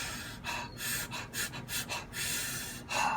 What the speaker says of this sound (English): you notice that I'm breathing fast into the chest and there's no real pattern there